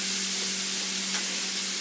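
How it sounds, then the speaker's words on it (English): Smoked bacon with apples and onions sizzles steadily in a pan while being stirred, a constant close frying hiss with no voices. "Now just give them a nice stir to kind of make sure that nothing's really stuck to the pan at the moment."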